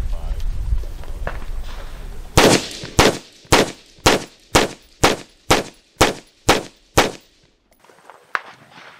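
Full-auto gunfire through an Overkill Customs Bully Brake muzzle brake: about ten loud, sharp, evenly spaced reports over five seconds, with soft handling noises before and after.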